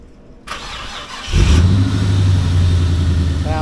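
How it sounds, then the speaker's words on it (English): A Chevy V8 in a little red truck cranks and fires up, then settles into a loud, steady rumbling run close by, with no talking. "Alright guys, this is what a Chevy sounds like."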